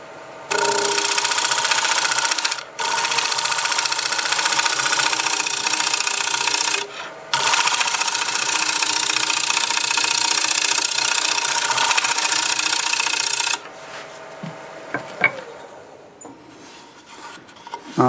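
A wood turning scraper cuts wood on a spinning lathe, a loud continuous rasping hiss in three long passes with short gaps, then the lathe's quieter whir alone with a few faint taps.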